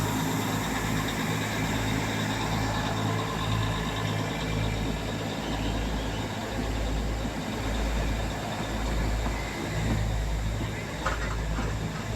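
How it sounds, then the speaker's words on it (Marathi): A low, steady rumble of a Matheran toy train idling at a platform, with a murmur of voices throughout. "ऋषीला ट्रेनमध्ये बसायचं आहे"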